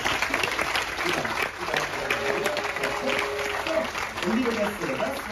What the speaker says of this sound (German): Und hier nochmal einen riesen Applaus.